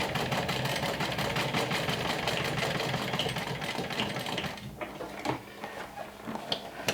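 A sewing machine stitches a medium-size crossbody tote bag, running steadily and busily up close for about four seconds before it stops and a few scattered clicks and handling knocks follow.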